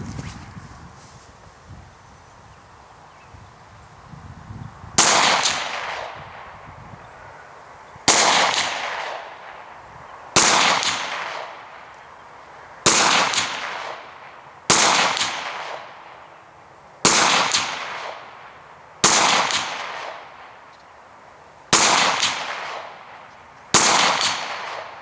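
Ten sharp shots from an FN Five-seveN pistol in 5.7x28 crack one after another at steady intervals of about two seconds, each loud report followed by a short echoing decay, no speech.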